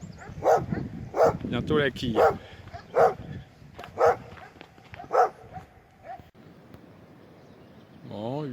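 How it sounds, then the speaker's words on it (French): A dog barks repeatedly in single sharp woofs spaced about a second apart, with someone speaking briefly over the first barks. "Apparemment il y a un chien qui est pas content"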